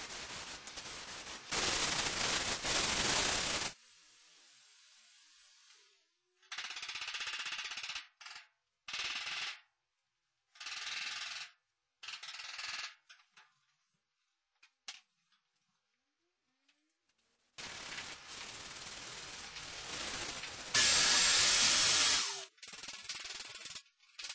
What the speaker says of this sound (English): spray another dot coat in our problem areas